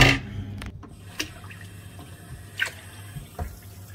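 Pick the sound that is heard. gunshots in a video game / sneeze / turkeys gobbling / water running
water running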